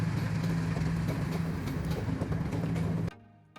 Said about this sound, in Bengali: আমরা যাওয়ার পরেই এই ট্রেনটি এখান দিয়ে ছুটে চলছে।